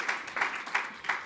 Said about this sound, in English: I hear some mild applause.